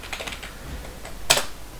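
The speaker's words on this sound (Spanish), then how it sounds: "teclear valores enteros" Light typing on a computer keyboard while entering integer and floating-point values into a basic Python program, a few soft scattered keystrokes followed by one louder clustered clack near the end.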